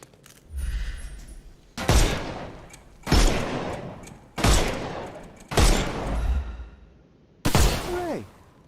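Gunfire in the Sherlock Holmes Chapter One video game as shots break enemies' armour, five loud bursts spaced about a second apart, each a sharp crack with a decaying tail, and a whooshing sweep at the end.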